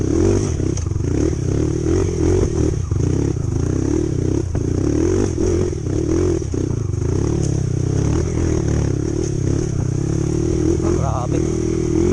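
A motorcycle engine drones steadily up close while tires crunch and rattle over a rough gravel trail, with a voice faintly heard beneath the noise.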